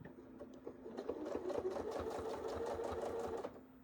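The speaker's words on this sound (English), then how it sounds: "I'm going to stitch out essentially to the corner" A sewing machine stitches an apple core quilt piece out to the corner, running steadily at close range for about three seconds with a soft start and stop and no talking over it.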